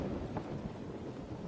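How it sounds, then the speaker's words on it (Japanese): Heavy rain falls on a mountain at night, a steady low hiss with a deep, rolling thunder rumble running underneath, distant and fairly quiet throughout. "よく降る雨だ。"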